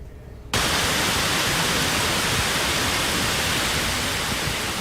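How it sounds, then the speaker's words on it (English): A sudden dense roar of hail near Salt Lake City, Utah erupts and continues as a loud, steady hiss of ice pelting and shredding leaves and ground. "that is the sound of hail shredding leaves as it fell near Salt Lake City Tuesday evening"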